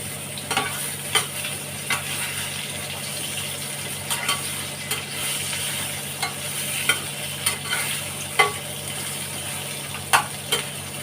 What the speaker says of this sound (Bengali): এবার আমি ঝিঙেগুলো ভেজে নেবো।